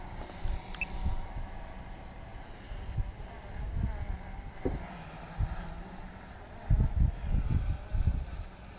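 Gusty wind buffeting an outdoor microphone on a very windy day, heavy low rumbling bursts that come and go, strongest near the end, with no voices.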